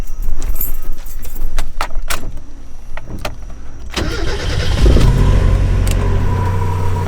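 A car engine is started after its negative battery cable is reconnected: keys jangle and click for several seconds, then the starter catches and the engine fires into a loud, steady idle close by.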